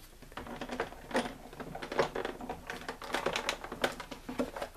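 A die-cutting machine feeds stacked cutting plates through its rollers for a DIY tag journal, giving a steady run of close, rapid clicking and rattling taps with small irregular surges and no talk.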